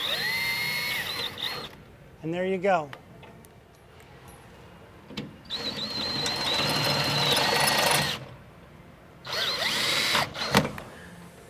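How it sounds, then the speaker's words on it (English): An electric drill bores a hole for a door closer arm in several separate whirring bursts with pauses between them, and a voice speaks briefly during one of the gaps. "the other one we're going to have to drill"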